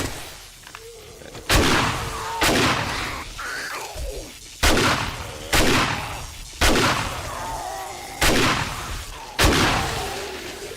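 Gunshots in a video game: eight loud, sharp reports spaced about a second apart, each followed by a short booming tail, with faint talk underneath.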